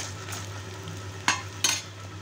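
Mango skin sautéed with salt in a pan for a thuvayal chutney, heard as a faint steady sizzle under a low hum, broken by two quick scraping stirs of the spatula.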